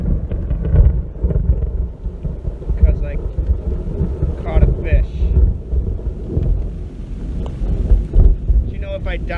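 Thunder rolls during a rainstorm at Lake Orion, Michigan, while someone fishes on the water; deep rumbling swells over steady rain hiss and wind buffeting, loud and sustained across the whole stretch.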